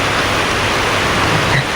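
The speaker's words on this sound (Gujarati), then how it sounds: "અહીંયા કણે વરસાદ પડે છે." Rain falls steadily beside a highway, a dense, even hiss of drops that holds constant from start to finish with no talking.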